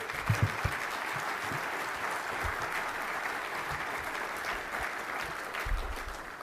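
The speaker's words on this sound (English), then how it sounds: "How about another round of applause for BM1?" Conference audience at the 2020 Surface Navy Association symposium keynote giving a round of applause, a dense steady clapping from a large crowd that holds at even loudness throughout.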